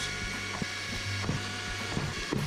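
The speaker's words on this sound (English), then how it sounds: "I need to drill all them holes out." A drill buzzes in uneven bursts nearby, drilling mounting holes for a KTM Duke 390 tank bag, its motor whining with periodic clicks and knocks as it works through holes.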